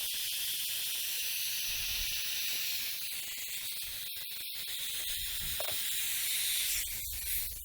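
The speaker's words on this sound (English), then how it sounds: "So I got my compressor fired up." Air compressor running in a garage during wet sanding of a Camaro ZL1 bumper conversion, a loud continuous hiss holding steady throughout with a few brief dropouts.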